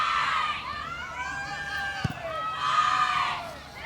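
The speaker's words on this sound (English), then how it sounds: "Nice crowd here on hand on this Thursday night" Crowd noise at a women's college soccer match between Mississippi State and Central Arkansas on a Thursday night, with shrill children's shouts and cheers rising and falling over a steady murmur, and a brief sharp thump midway.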